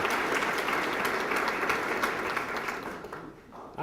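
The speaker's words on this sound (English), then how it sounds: "Give these seven a great round of applause again if we could," An audience at an adult drug treatment court graduation gives the graduates a steady round of applause, dense clapping that carries on for several seconds before thinning out.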